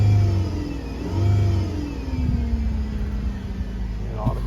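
A 2010 Ford Fusion engine hums close by, revving up twice with rising pitch before settling back to a steady idle.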